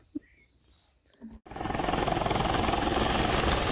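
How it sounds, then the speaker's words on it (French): Helicopter flying training exercises right next to a parked spot in Tuscany, its rotor roar rising abruptly from quiet surroundings to a loud, steady, pulsing drone close by. "Un hélico vient faire des exercices juste à côté de là où on est stationné"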